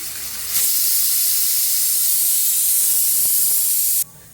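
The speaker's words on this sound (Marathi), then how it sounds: "तर बघा कुकरची शिट्टी द्यायला लागले" A pressure cooker vents steam in one loud, steady hiss that starts abruptly, holds evenly for about three and a half seconds and then cuts off sharply, close by with no talk.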